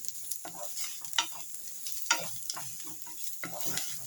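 Lentil rasam powder frying on a low flame with steady stirring: a soft continuous sizzle broken by repeated scraping strokes across the pan, close and moderately quiet, with no talking.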